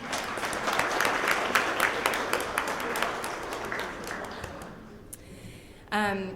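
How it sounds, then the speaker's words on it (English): Applause from a breakfast audience at a thank-you event, a room of clapping that holds steady and fades out near the five-second mark before a brief unrelated sound. "maybe we could give her a round of applause anyway"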